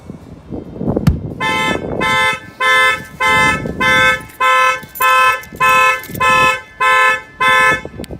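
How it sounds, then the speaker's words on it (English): The factory alarm on a 2018 Mercedes C300 goes off after a shock sensor is triggered: a loud close bump, then a repeating series of about nine steady electronic horn blasts with short even gaps, no talk. "Lets you know that the alarm was triggered."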